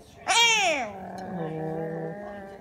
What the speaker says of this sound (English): Kitten, where is that kitten?